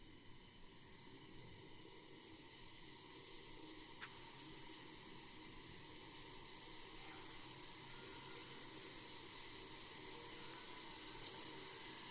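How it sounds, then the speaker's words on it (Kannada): Water heating to a boil in a pot for a North Karnataka dish, a faint, steady hiss and bubbling wash held at low level throughout with no voices. "ಹಿಂಗೆ ನೀರು ಕುದಿಯಾಕತ್ತಿಂದ"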